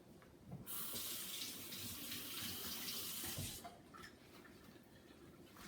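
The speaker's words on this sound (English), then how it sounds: "the trick here is just put some cold water on your hands" Cold water pours steadily from a kitchen tap onto hands for several seconds, a close, hissing splash that tapers off as the flow is interrupted.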